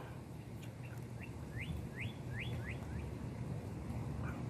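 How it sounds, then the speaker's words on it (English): Birds chirp outdoors on a calm day, a run of quick rising tweets repeated several times at moderate distance over a steady low background hum. "birds are tweeping."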